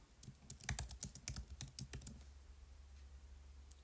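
Quick, irregular clicking of a computer keyboard as a teacher types feedback, with close, crisp keystrokes for about two seconds before fading into quiet room hum.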